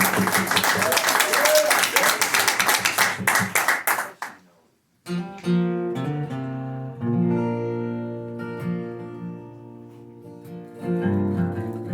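Small audience applauding at a live acoustic music show, dense close clapping for about four seconds that fades out, followed by guitar and music starting up.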